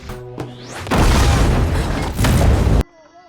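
In the animated series Arcane, a couple of sharp hits lead into a loud, roaring explosion that rumbles on with a second surge before cutting off into quiet tones.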